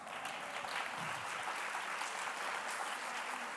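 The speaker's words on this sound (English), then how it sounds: "So please invite all of them with a big round of applause." An audience at a plenary session of a global forum gives a steady round of applause as award winners come onstage, the even clapping filling the hall at a moderate level with no one speaking.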